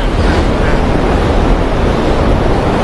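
Stormy wind and rough sea waves roar around a boat in a steady, loud, unbroken wash of noise with no clear breaks.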